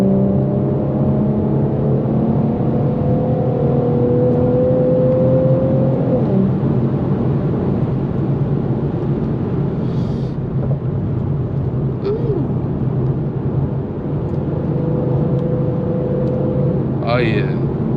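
Infiniti Q50 fitted with AFE drop-in air filters, engine droning loudly from inside the cabin with rising and falling revs as it downshifts, under a continuous road rumble.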